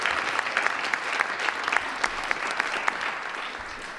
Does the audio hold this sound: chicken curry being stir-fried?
no